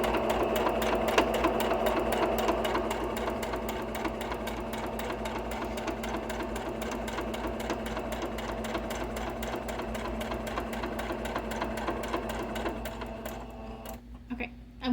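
A sewing machine stitches fabric steadily for a beginner's sunglasses case, a fast even mechanical whirring and ticking held close and constant until it slows and stops near the end.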